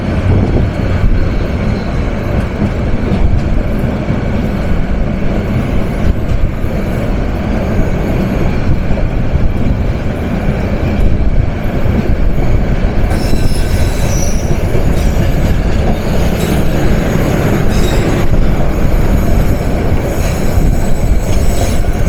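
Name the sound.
Intercity Cox's Bazar Express train passing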